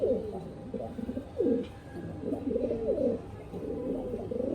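A Pakistani Teddy high-flying pigeon hen coos steadily at close range, soft throaty rolling calls repeating in a low murmur with no talk.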